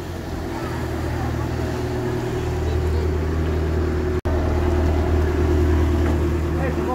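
A water taxi motorboat idling and chugging along a canal in Venice, a steady low engine drone that stays loud and close throughout, with a momentary dropout partway.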